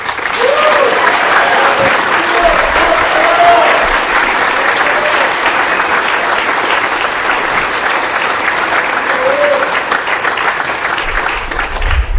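A high school honor society awards ceremony audience claps steadily for honorees, a dense, loud, sustained wash of applause filling the room without a break.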